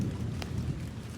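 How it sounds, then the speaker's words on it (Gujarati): Rain falls during the first summer thunderstorm in Bhavnagar, a faint steady wash over a low, distant rumble, heard for only a brief moment. "વીજળી તડકારુની થાય છે અને વરસાદ આવવાનું શરૂ થઈ ગયું છે."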